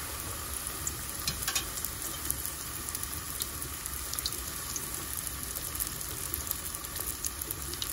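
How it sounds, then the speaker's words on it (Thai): Wonton wrappers around meatballs and hot dogs deep frying in hot oil make a steady, dense sizzle with small crackling pops throughout, close and continuous, with no talking. "เดี๋ยวเราไปทอดกันจ้ะ"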